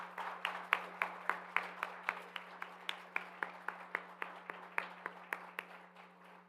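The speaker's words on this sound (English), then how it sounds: "Let's give Hunter one more round of applause." Applause at an Eagle Scout ceremony, heard faint and distant as a steady run of separate claps in an even rhythm over a low constant hum, with only a few people clapping.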